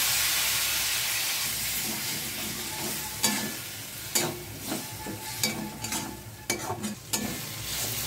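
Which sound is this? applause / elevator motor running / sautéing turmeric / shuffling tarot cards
sautéing turmeric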